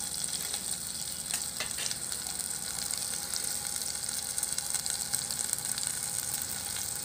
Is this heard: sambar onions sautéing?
yes